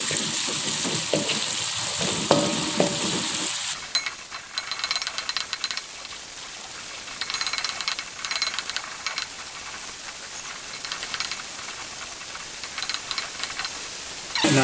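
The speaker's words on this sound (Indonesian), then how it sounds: "Nah, ini kita aduk, kita tumis hingga mengeluarkan aroma yang wangi ya." Galangal, lemongrass and bay leaves stir-fried in a pan, a steady hiss of sizzling oil with scraping stirs, louder at first and then settling into a softer continuous fry.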